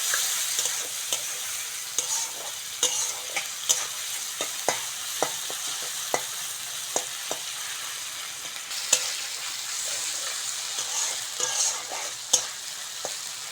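Prawns frying with chilli powder and spices in a pan for Bengali dal, a steady hiss of sizzling oil broken by regular sharp scrapes and taps of a spatula stirring, with no voices.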